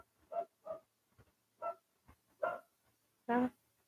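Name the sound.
dog barking at a passerby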